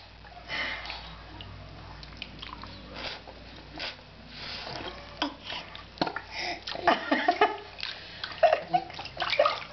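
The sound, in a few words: water splashing in bathtub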